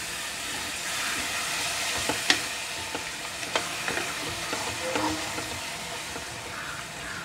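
Yogurt being stirred into tomato biryani masala frying in a pan, a steady close sizzle with scraping clicks of the spoon against the pan throughout, no voices.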